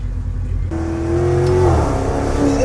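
A Maserati engine revs up and accelerates at a car meet, a loud, close, rising roar that swells steadily and holds near the end.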